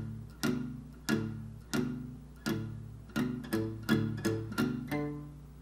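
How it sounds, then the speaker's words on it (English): An acoustic guitar strums full chords in a down-down-down-up-down-up pattern, evenly spaced strokes ringing close and fairly quiet, with no voices. "I'm just going to be playing the full chords and doing the strumming pattern of down, down, down, up, down, up."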